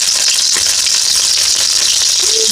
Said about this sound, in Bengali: সর্ষের তেলে রান্না, সামান্য পাঁচফোড়ন। এবারে নুন হলুদ মাখানো চিংড়িটা দিয়ে দিলাম।